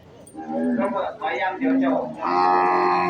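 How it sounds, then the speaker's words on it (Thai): A plump cow and a young bull in the Khon Kaen countryside of Thailand, offered for sale, moo in several loud, drawn-out calls, one after another, close by. "กับแม่เดี่ยวอ้วนๆกับวัวหนุ่ม"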